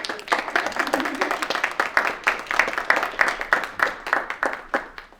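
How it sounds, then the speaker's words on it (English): Rhythmic clapping from a modest audience at a talk on feminism and African reality, with distinct individual claps forming an uneven, moderately loud round that continues throughout. "Give my round of applause."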